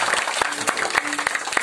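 A church congregation at an Indonesian service claps in lively, steady rhythmic applause, with a voice faintly audible beneath the beats.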